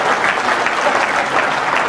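A large audience claps steadily at a comedy show, broad continuous applause from many people at a constant, fairly loud level with no talking on top.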